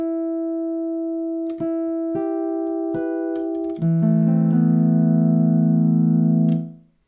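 A Digitone II synthesizer acoustic guitar patch with its highs cut by a filter plays plucked tones, a few single notes followed by a sustained lower chord that rings out and fades, heard alone without talk.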